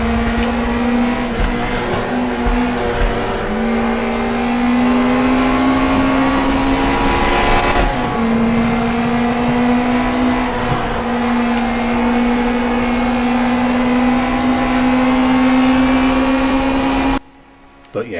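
Steady, loud engine drone of an NSU TTS race car in the RaceRoom racing game, holding a sustained tone with brief dips during gear changes and a sudden cut near the end.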